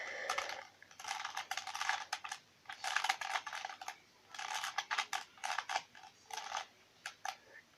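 Plastic clicks and clacks of Rubik's cube layers being turned through an algorithm, quick bursts of twists separated by brief pauses, close and fairly quiet with no talk.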